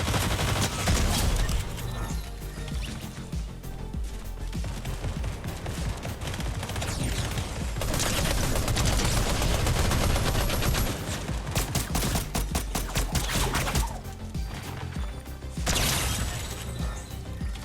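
Steady game gunfire from Fortnite fills the stretch, with dense bursts of rapid shots and mechanical clatter, loudest in waves around the middle and end, ending in a headshot elimination.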